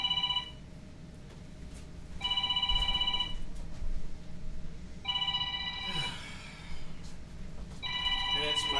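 A telephone rings in repeated bursts of electronic trilling, four rings spaced a few seconds apart in a quiet workshop where a pencil dispenser is being assembled.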